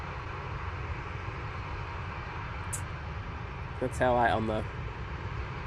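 A Singapore Airlines airliner arrives at Manchester Airport as a distant, steady engine roar under outdoor hum, while someone talks briefly nearby.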